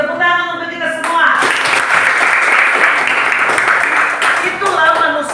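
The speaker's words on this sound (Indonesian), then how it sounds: "Tepuk tangan untuk kita semua." Classroom applause from students during a religious lesson, a dense burst of clapping that swells quickly and holds steady, with a voice speaking at the start and again as it fades.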